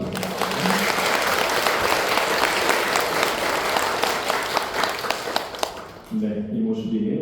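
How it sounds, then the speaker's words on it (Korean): Congregation at a Catholic Marian devotional Mass applauds in welcome: steady, dense clapping for about six seconds, then it stops and a voice begins speaking. "환영의 박수"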